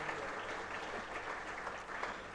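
Faint, somewhat distant applause from an annual day ceremony crowd, a continuous patter of many hands clapping for a couple of seconds without voices.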